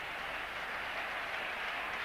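A cricket stadium crowd clapping steadily as a batsman nears fifty in a one-day semi-final at Kolkata, a dense, continuous wash of applause heard at a distance.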